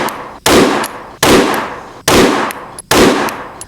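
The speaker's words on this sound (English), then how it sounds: "So we're gonna put 5 rounds down range," Five sharp pistol shots fired at an even pace, each loud crack trailing off before the next, while testing a Trijicon RMRcc sight.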